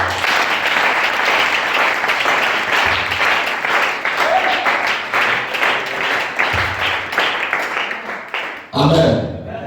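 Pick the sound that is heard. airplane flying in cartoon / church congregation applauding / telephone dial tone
church congregation applauding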